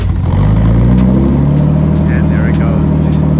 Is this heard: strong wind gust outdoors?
no